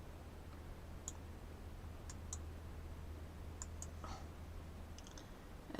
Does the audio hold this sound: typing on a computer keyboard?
yes